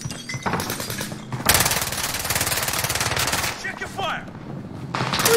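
Rapid video-game gunfire, with loud sustained automatic bursts broken by short pauses and a brief stretch of talk between volleys.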